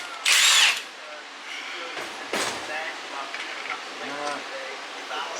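A power tool, likely an impact gun, gives one short loud burst at the start, loosening the top strut mount nut on a MaxPeedingRods coilover; afterward only quieter clanks and faint workshop noise follow.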